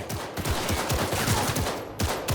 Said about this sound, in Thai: จบที่ยิงปืนจนได้